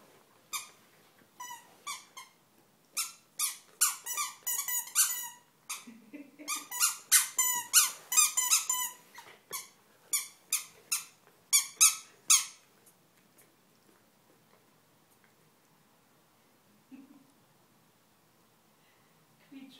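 Dog biting a squeaky sausage toy, a rapid series of sharp high squeaks in bursts over about twelve seconds, close by, followed by quiet with faint low sounds.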